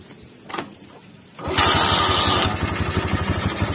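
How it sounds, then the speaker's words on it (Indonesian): Megapro motorcycle engine, running on a capacitor instead of a battery, cranking and catching, then idling with a steady, close, buzzing putter and a brief loud rev. "Sekarang coba saya hidupkan motornya."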